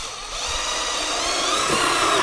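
A power drill runs steadily, its motor whirring as a continuous high whine that builds slightly and then holds, close and loud with no speech.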